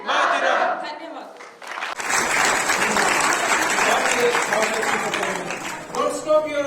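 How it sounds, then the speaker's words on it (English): A large audience applauds at a university Republic Day celebration, sustained dense clapping with crowd cheers, following a brief voiced chant at the start and giving way to a voice near the end. "Don't stop your applause."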